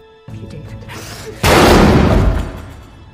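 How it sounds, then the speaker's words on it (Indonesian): A loud gunshot-like boom bursts in abruptly after a quieter tense stretch of film soundtrack, then decays over about a second, a dramatic cinematic firearm effect in a horror movie. "Paul menembak Laura tepat di kepalanya hingga membuatnya tewas pada saat itu juga"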